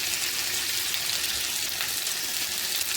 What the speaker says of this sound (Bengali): ওই তেলে পেঁয়াজগুলো ভেজে নেব।